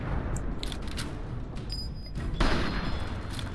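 Gunfire in the video game Fallout, a burst of muffled shots and booms under a steady noisy background, with a louder hit near the end.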